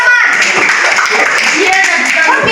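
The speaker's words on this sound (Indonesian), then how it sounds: "Tepuk tangan dulu untuk kelompok 8." A classroom group of students claps briefly for a student team, a quick burst of close clapping mixed with children's voices chattering over it.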